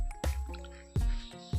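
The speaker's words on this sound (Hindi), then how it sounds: "इस तरह से दबा दबा कर बचे हुए जो पानी है उनको अच्छे से निकाल लेना है" Boiled grated carrots squeezed by hand to press out water, giving a few close, soft wet squishes and drips in quick succession.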